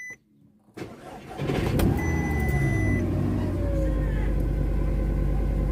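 An Audi 2.0 TFSI engine cranks briefly with a rising whine, catches and settles into a loud, steady idle rumble close by.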